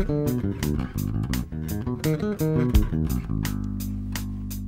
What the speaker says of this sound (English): Let me play it with the drum machine.